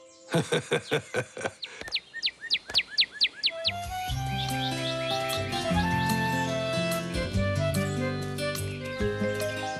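Birds chirp in a rapid series of bright, clipped calls near the start, then carry on more faintly as lively cartoon music with tinkling tones swells in and dominates the rest.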